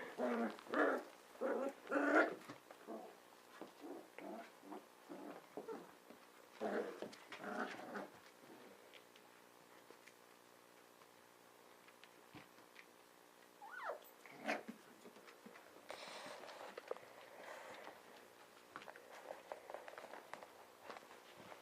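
Playful puppies scuffle and yip, with a loud cluster of barks and growly squeals at the start, then scattered softer yelps and bursts of rough play fading in and out, fairly close.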